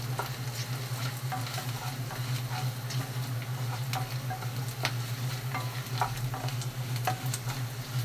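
Cabbage sizzles steadily as it fries in a hot pan while a utensil scrapes and taps as it is stirred, close and continuous throughout.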